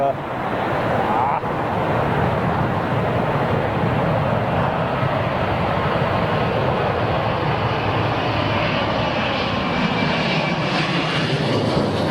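Airliner arriving at London Heathrow during Storm Brendan in strong gusty wind, a loud continuous jet engine roar mixed with wind rumble that stays steady for the whole stretch.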